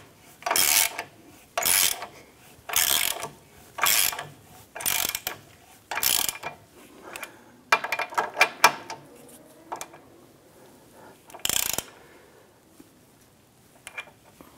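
A hand ratchet tightens subframe bushing bolts on a 2008-2013 Nissan Rogue in a series of bursts of rapid clicking, about ten strokes with brief pauses between, close by and without talk.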